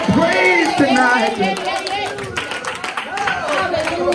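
A church congregation claps its hands in praise during an evening service, rhythmic clapping mixed with crowd noise beneath a prominent speaking voice.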